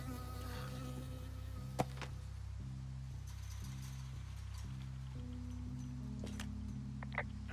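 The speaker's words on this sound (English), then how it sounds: "I got stung by a bee." An insect buzzes in Firewatch, a bee in the game, holding a steady close drone over background game music, with a couple of brief sharp clicks.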